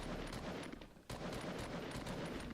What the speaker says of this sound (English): I return fire as soon as possible